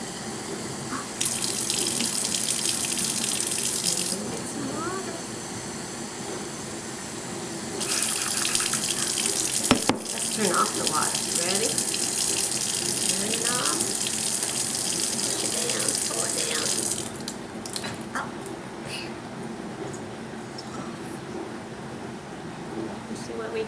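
Tap water runs steadily into a cup at a sink, a loud continuous gush that starts and stops in bursts, with a person's voice talking faintly beneath it.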